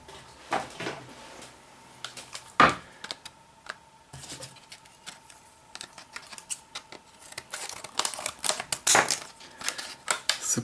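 Scissors snipping and crunching through product packaging, a series of sharp irregular cuts and rustles, fairly close and moderately quiet, with no talking.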